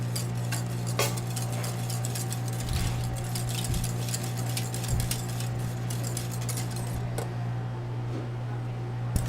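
A spoon stirring carrot ginger soup in a pot, producing rapid repeated scraping clinks against the metal, close and continuous, over a steady low hum from the stove.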